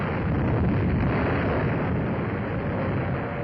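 Explosions at Pearl Harbor in old wartime newsreel footage form a continuous loud, rumbling roar of blasts with no distinct pauses and no speech.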